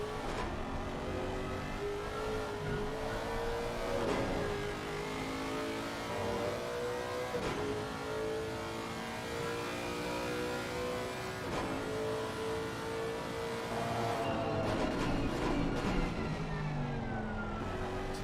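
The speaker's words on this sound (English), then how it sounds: "Just listen to that gearbox of the Lexus." A Lexus race car in a sim racing game, driven through an endurance race at Misano, its engine rising in pitch through the gears with audible gearbox shifts, steady and close throughout with no talk.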